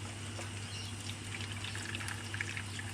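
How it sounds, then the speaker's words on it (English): Water drains from a stir fry pan through a partly lifted lid, a soft, continuous trickling pour with small splashy bursts over a low steady hum, fairly quiet and close. "So when I take the lid, I don't rip it right off because now I can drain the water without losing too much of the goodies"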